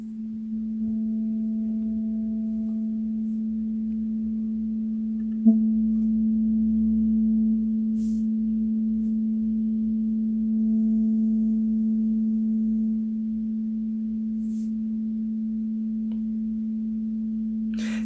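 Two pure tones play together at the same pitch for a beat frequency experiment, forming one steady, unwavering hum that holds for the whole span, with a faint click partway through and no speech.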